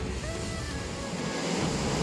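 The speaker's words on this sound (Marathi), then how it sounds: "या समुद्राच्या दुधा लाटा छान अशा दगडाला आपटताना आपल्याला पाहायला भेटत आहेत." Sea waves wash against the rocky shore below Rajkot Fort at Malvan, producing a continuous broadband roar of surf and wind that swells slightly toward the end.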